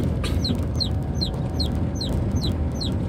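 Young Burma chickens cluck and peep in a steady repeating pattern of short high chirps over a constant low rumble of outdoor background noise.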